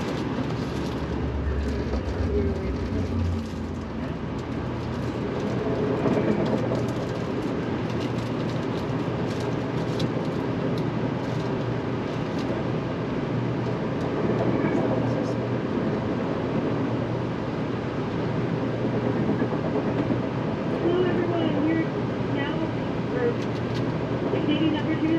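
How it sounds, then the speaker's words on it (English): A steady low rumble and rattle of the Via Rail Canadian passenger train going by, heard from inside the dome car of another train, continuous and without pause. "train number 2 from Vancouver to Toronto just passed us"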